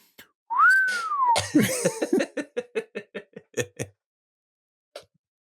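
A person imitates a whistle with a rising, then falling tone, followed by a burst of rhythmic, chuckling laughter-like puffs.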